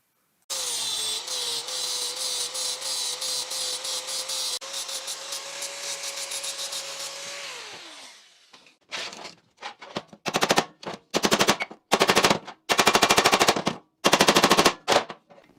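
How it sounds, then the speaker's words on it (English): An angle grinder fitted with a flap disc cleans up welds on a steel collar for a rocket stove pellet hopper, whining steadily for about eight seconds, spinning down, then returning in loud repeated bursts. "I'll clean it up with a flapper"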